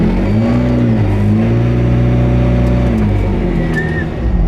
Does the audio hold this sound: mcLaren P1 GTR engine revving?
yes